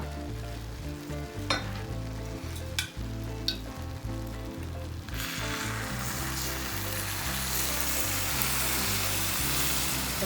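Cold syrup is poured over hot fried şöbiyet pastries, setting off a loud, steady sizzle that swells partway through over a low, droning background.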